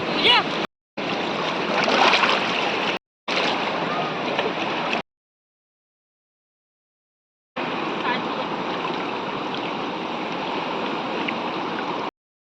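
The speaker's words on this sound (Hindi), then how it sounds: "वाकई ये एकदम बहते हुए जल का किनारा, ये लहरें" Water rushes and laps continuously at the bank of a flowing river on the way to Purnagiri temple, a dense close wash of sound broken by abrupt cuts and a few seconds of silence.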